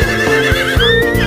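A toy horse gives a loud, squealing electronic whinny over a steady rhythm of hoof-like clip-clop thumps.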